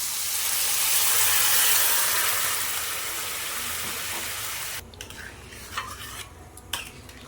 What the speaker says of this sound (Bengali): গরম জল করে রেখেছিলাম, গরম জলটা দিয়ে দেবো।